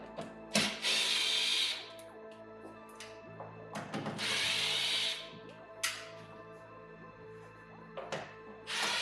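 Power tool loosening 7mm screws from the door panel of a 2010-2015 Chevy Camaro, with three separate whirring bursts of a few seconds each and quieter handling noises between them, close up and with no talking.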